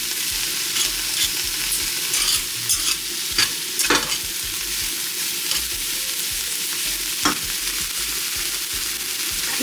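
Cabbage and peppers stir-frying in a hot pan for curry goat with rice, a steady loud sizzle broken by occasional scrapes and stirs, with no talking.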